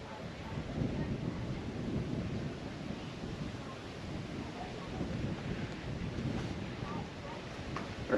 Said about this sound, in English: it's a bit windy here at the minute